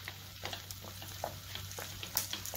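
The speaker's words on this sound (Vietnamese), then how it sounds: "để bánh tiêu vô chiên nha cả nhà" Bánh tiêu dough fries in a pan of oil, making a faint, steady sizzle with scattered pops and crackles over a low hum.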